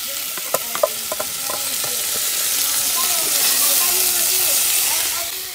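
Peppers hiss and sizzle loudly on a hot solar electric cooker with thermal storage, a few stirring clacks at the start, then a broad steady frying roar that swells and fades slightly, close by, with a voice faintly present.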